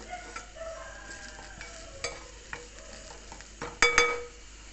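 Ginger and green chillies fry in a small amount of oil, giving a steady close sizzle with scattered light utensil clinks and one louder clatter near the end, no voices.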